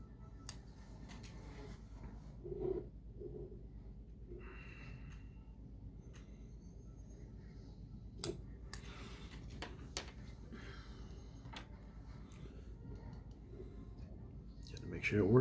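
Small scissors trim the coil leads on a vape RDA, giving a few faint, sharp snips and clicks over quiet background handling noise while someone talks.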